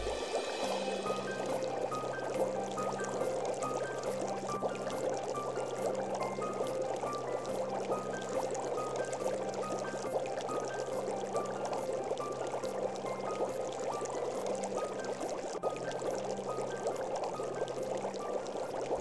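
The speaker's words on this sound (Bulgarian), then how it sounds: "Виждаме спирателния кран, който трябва само да се отвори, за да потече водата към станцията." Water rushes through pipework toward a station after a shut-off valve is opened, flowing at about a liter to a liter and a half per second; a loud, continuous, even pouring stream fills the whole stretch without any talking.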